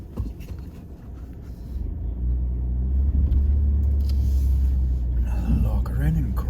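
A four-wheel drive vehicle on a hunting trip crawling up a small hill, its engine a low, steady rumble that swells partway through, with people talking over it.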